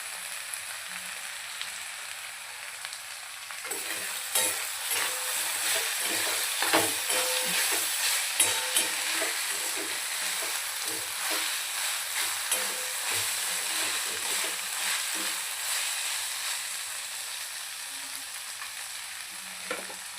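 Finely chopped vegetables for a momo filling fry and get stirred in a pan, a steady sizzle with scraping strokes of a spoon, close and fairly loud, starting quieter and filling out after a few seconds, with no talk.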